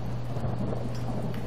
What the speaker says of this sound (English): Okay, so it's raining